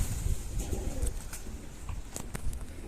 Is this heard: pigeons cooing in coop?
yes